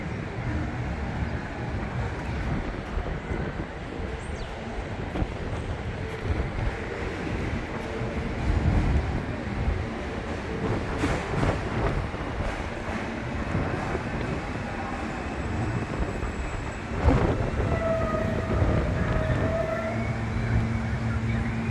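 An NYC subway F train at West 8 St station, a steady low rumble of rail noise with rising screeches and squeals toward the end, a brief tonal whine, and some background voices on the platform.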